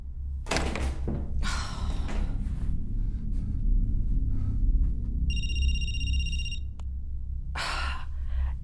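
Dull thuds of banging on walls in the PS5 horror game Night Book, several heavy knocks spaced out over a low steady rumble, with breathy sighs and a brief electronic tone between them.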